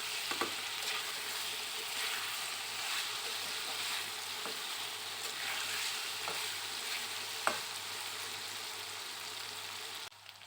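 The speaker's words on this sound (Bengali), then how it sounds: "প্রথমে মাংস আর আলু একসাথে দিয়ে একটু ভেজে নিতে হবে" Chicken and potato pieces fry together in a hot pan with a steady, close sizzle, punctuated by occasional light clicks of stirring, with no talk.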